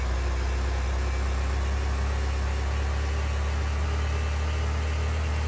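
A truck engine drones steadily in a video game, a constant low rumble with broadband noise and no clear change in pace, running alone without talk.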